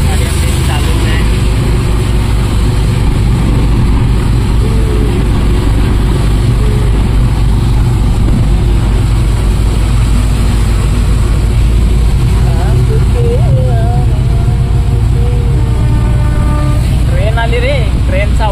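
A car moves slowly along a road in heavy rain, giving a steady, loud, low rumble of engine and road noise mixed with the wash of rain, with voices faintly present underneath.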